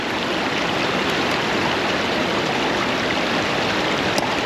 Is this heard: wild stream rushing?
yes